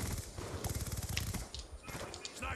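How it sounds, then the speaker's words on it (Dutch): Rapid bursts of Call of Duty: Black Ops 2 gunfire, faint and distant, crackling in quick repeated volleys. "ik hoor allemaal schoten achter mij"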